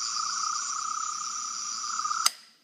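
Steady high-pitched electronic hum from a Doctor Who Third Doctor sonic screwdriver toy, heard close and alone for about two seconds before it cuts off with a sharp mechanical click.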